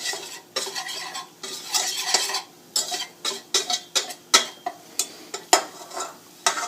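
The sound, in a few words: whisking a flour roux cooking over medium flame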